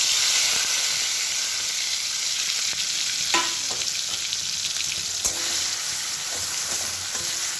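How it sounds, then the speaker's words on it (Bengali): Ridge gourd peel paste fries in hot oil in a kadai, a bright, steady hiss of sizzling with a few spatula knocks and scrapes, close and continuous with no talking. "তেলটা আমার গরম হয়ে গেছে, এবার খোসা বাটাটা দিয়ে দেবো এর মধ্যে"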